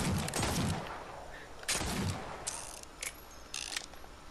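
The Marksman Six weapon in a video game fired rapidly from the hip, a series of sharp shots with mechanical clacks between them, close and moderately loud. A voice speaks briefly at the start.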